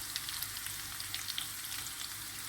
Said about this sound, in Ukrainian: Ось там вже починає шкварчать, жариться.